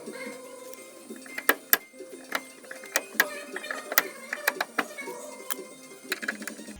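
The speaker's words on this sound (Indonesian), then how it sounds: "untuk membuka mur ini kita membutuhkan kunci 17. Nah, saya di sini gunakan kunci sok 17" A size 17 socket wrench ratchets while loosening a steering nut on a Suzuki Carry Futura, producing irregular bursts of crisp metallic clicks at close range over several seconds.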